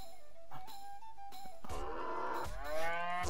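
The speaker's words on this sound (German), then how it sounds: "Ah, eine Kuh." A cartoon cow moos in South Park: The Stick of Truth, a loud, drawn-out harmonic low that starts midway through and runs to the end over light game background sounds, with no talking.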